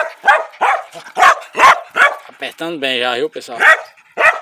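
An eager hunting dog barks and yips in quick, loud bursts close by, with a brief whine in the middle, while someone talks over the barking.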